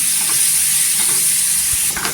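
Steady sizzling and frying hiss from papaya pieces sautéing in ghee in a kadhai, close and continuous, with occasional stirring.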